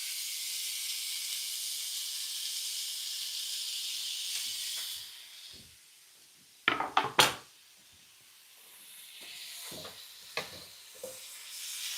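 Rice and chicken going into hot oil in a pot for a Mediterranean dish, a loud steady sizzle that fades, then a few sharp scraping clatters and quieter renewed hissing.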